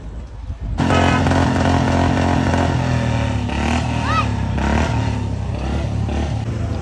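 A motorcycle engine roars loud and close as it rides through floodwater after heavy rain in Punjab, holding a steady drone with small shifts in pitch.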